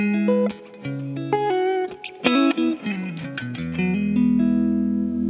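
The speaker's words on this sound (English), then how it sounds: "maybe add in some reverb on a clean sound" Martin acoustic guitar played through a pedalboard with reverb on a clean sound, plucked single notes and chords ringing out with a spacious wash and lingering tails, ending on a sustained chord.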